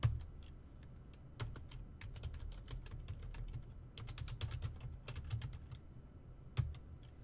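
Someone types steadily on a computer keyboard, a quiet, close run of irregular key clicks over a low background hum, with a few sharper taps standing out.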